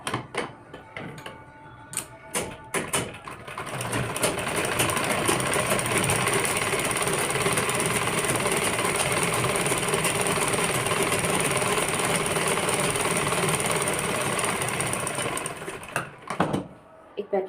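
A sewing machine runs in one long, steady burst while a kurti collar is stitched, loud and continuous for about ten seconds, with a few brief handling clicks before and after.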